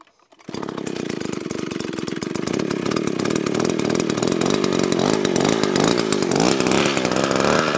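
A Družba 4 chainsaw engine catches after a brief silence and runs on, a loud, rough two-stroke buzz that steadies and grows slightly stronger as it keeps going.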